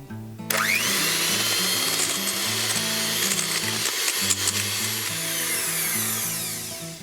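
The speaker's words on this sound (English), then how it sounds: "So just whisk this in, just for about 30 seconds, and then it's ready." Egg whites and agave syrup being whisked, a loud, steady mechanical whirring that holds without pause for several seconds, with a brief dip in the middle.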